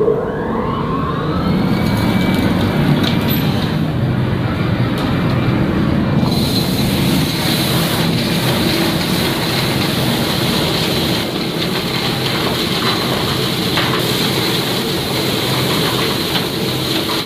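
Limestone crushing plant with conveyor belts, a dense, steady industrial roar with grinding and rumbling that holds loud and unbroken throughout, no voices.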